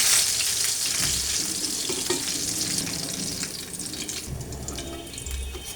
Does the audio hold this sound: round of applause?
no